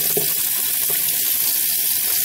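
Fish for sour fermented fish is rinsed under cold running water, a constant close splashing rush that fills the whole moment without pause.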